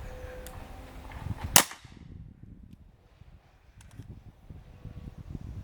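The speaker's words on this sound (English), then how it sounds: "For giggles, we'll shoot this one at 5 yards and see what we get." A single sharp crack comes from a .22 LR shotshell fired at 5 yards on a range, loud and close with a quick fading tail, followed by quiet shuffling and handling noises.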